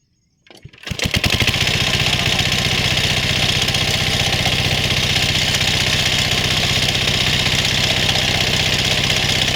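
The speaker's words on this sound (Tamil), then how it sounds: "இப்போ டீசல் ஊற்றிட்டு நம்ம இப்போ இன்ஜின் ஸ்டார்ட் பண்ணுறோம்" After a brief pull and sputter, a diesel water pump engine catches and runs loudly and steadily, a close, even mechanical chugging that continues unbroken, in a village in Villupuram.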